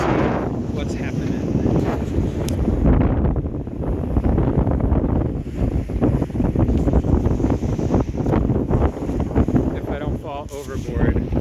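Strong wind buffeting the microphone aboard a sailboat with two reefs in the main on Lake Okeechobee, Florida, a loud continuous roar with gusty swells and some water and boat noise, no speech.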